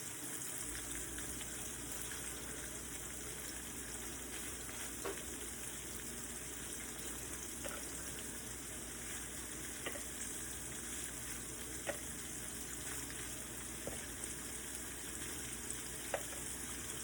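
Shrimp frying in a pan give a soft, even sizzle that runs quietly throughout, punctuated by occasional small ticks and pops, no talking.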